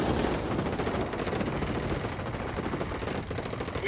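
Ghost Recon: Wildlands gunfire rattles as rapid, continuous automatic bursts, dense and steady for about four seconds at moderate loudness with no speech.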